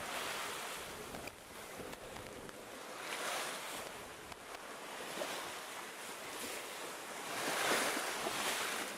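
Wind of about 18 to 20 knots and a large 4-metre ocean swell roar steadily around a boat off the tip of Fraser Island, with surging wave wash and buffeting wind noise.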